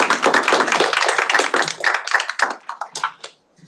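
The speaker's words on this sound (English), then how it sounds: "We can clap, it's okay." An audience at a student government meeting breaks into a brief round of clapping that fades and scatters into a few last claps before falling silent.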